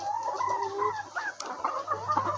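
Layer hens on a poultry farm, recovering after a cholera outbreak, cluck and chatter continuously nearby, with overlapping calls and one brief sharp squawk.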